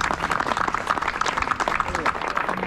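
Audience applause, dense and continuous, with a voice speaking over the clapping.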